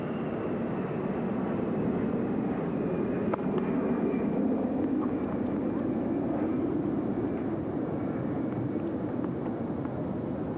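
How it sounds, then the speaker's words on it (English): A steady, broad low roar of an airplane passing overhead, sustained and fairly loud throughout with no talking. "Lendl will wait for the planes overhead."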